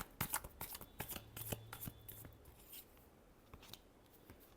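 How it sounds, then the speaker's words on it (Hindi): Tarot cards being shuffled by hand, a quick series of crisp riffling flicks and slaps, close and fairly quiet, fading to softer handling toward the end. "Last shuffle."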